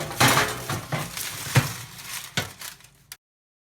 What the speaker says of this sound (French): Donc je vais mettre le plat tout en bas du four, au-dessus d'une plaque de cuisson.